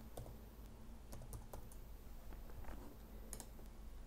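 Rapid, irregular clicking of keys typed on a computer keyboard in a quiet room during work in GIS software, steady light taps with a few sharper clicks, alone without talk.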